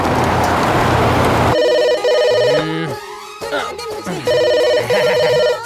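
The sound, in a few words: telephone ringing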